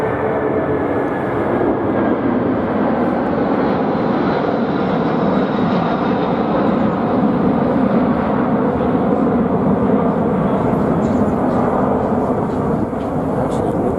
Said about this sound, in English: Apparently we are right by an airport.